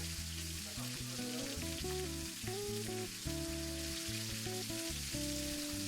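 Steak sears in butter with thyme and rosemary in a pan, giving a steady, close sizzle that runs unbroken, with tonal background music underneath and no talking.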